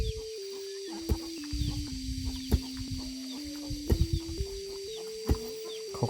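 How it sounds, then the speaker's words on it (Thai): Chickens cluck and a rooster calls in a small mountain village without electricity, short clucks coming irregularly at moderate distance over a steady background hum. "ไก่กาก็หลายแล้วนะ"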